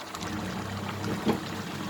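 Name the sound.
boiled water poured from a kettle into a pot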